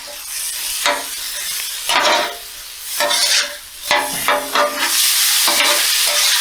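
Egg roll in a bowl with garlic and ginger cooking on a Blackstone griddle at an outdoor camp in New Mexico: close, bright sizzling comes in repeated surges as a spatula scrapes and stirs, with no voices.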